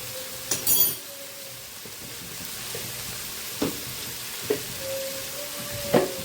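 Ground turmeric, cumin and coriander powders frying in a pan for spicy Bengali kuli pitha, a steady low sizzle with a few soft clinks and stirring scrapes spaced through it, close and fairly quiet.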